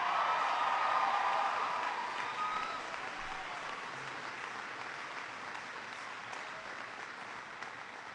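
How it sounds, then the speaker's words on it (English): A rally crowd at a health care reform event applauds, with dense clapping loudest at the start and gradually thinning and softening, heard from a distance with no talking. "give Leslie a great round of applause for her wonderful introduction"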